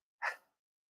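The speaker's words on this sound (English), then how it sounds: "Nothing like having a sneeze on a live while you're making food, people." A single short, sharp sneeze, close and fairly quiet, bursts out during live kitchen prep of tea mocktails and fades within half a second into silence.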